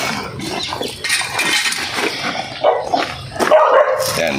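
A dog barks repeatedly nearby, with sharp yips and short bursts over a busy, noisy background.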